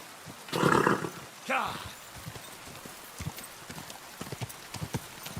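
Horse hooves clip-clop in an uneven rhythm on a hard surface, with loud vocal bursts near the start before the hoofbeats continue alone.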